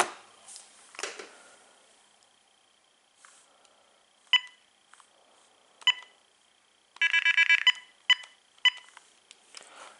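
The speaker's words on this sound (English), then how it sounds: "now the first thing I want to do here is check out the ringtones on the" An AT&T 9357 cordless telephone plays ringtones: a series of short electronic beeps and tone bursts, scattered singly at first and then a denser warbling ring pattern, fairly clear against a quiet room.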